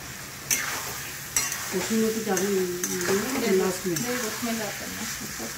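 Spices being stirred and fried in a pan for a Kashmiri-style dish, a steady sizzle with scraping stirs and occasional utensil clinks, close up, with a voice speaking over it.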